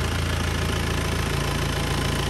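An old car engine runs steadily during a blowby check, a loud, continuous idle with a dense, even rumble and no voices.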